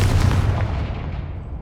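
A Confringo fire-blast spell explodes in Hogwarts Legacy, a sharp booming blast with a rumbling low tail that fades out over under two seconds, alone without talk.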